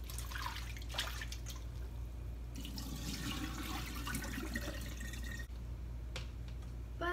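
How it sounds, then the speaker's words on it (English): Tap water runs steadily over fresh garden basil stems in a sink, a continuous close splashing wash with shifting drips and flow changes. "First, I'm going to rinse the basil on the stems"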